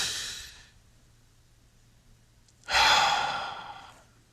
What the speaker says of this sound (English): I want to invite us to take a deep breath for ourselves.